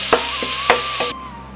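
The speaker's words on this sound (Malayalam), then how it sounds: "5 മിനിറ്റ് ഒന്ന് ചെറുതായിട്ടൊന്ന് വഴറ്റി കൊടുക്കുക" Stinging nettle thoran with coconut mix being sautéed in a pan: a steady close sizzle with a few sharp stirring scrapes spaced across it, no voices.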